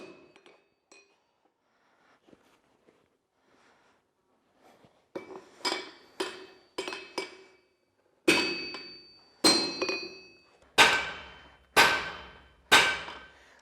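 Hand hammers strike an iron axe blade on a century-old anvil at a forge, with a series of ringing metallic blows, at first faint and sparse, then loud and regular in pairs and single strikes.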